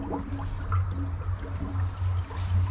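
Water from a new well pours steadily into a tank with a low, continuous rushing rumble and faint trickling, close by and without voices.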